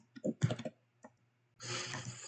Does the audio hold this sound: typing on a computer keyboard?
yes